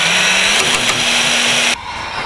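White epoxy floor paint for a concrete garage floor is stirred with a power mixer, giving a loud, steady whirring drone with a rising motor tone that stops abruptly partway through, leaving quieter room noise.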